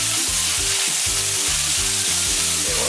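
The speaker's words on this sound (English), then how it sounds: "Now I just need to go ahead and stir it up." Ground beef dumpling filling being mixed for Korean fried dumplings (goon mandu), a steady wet sizzling hiss with soft repeated stirring pulses, close and loud, no voices.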